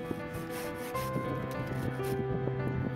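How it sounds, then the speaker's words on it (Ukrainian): A Japanese ARS CAM-24LN garden pruning saw cuts through a tree branch. Its close, steady rasping strokes come in a rubbing rhythm for three seconds. "А зараз на цих кадрах ви можете побачити, як вона обрізає гілку."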